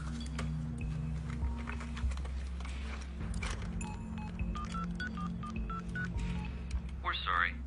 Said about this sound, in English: I phoned her number.